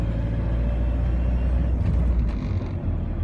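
Renault vehicle climbing a ramp in third gear at around 1500 rpm and 30 km/h, giving a continuous low engine rumble that stays steady throughout, with a faint hiss near the end.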